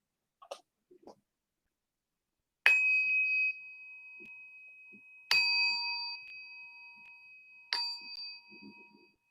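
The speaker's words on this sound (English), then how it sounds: "with 3 sounds of the bell, we will begin our meditation" A meditation bell struck three times, each a bright ringing strike that hangs and fades slowly, evenly spaced several seconds apart in a quiet room, with a few soft stray sounds before the first strike.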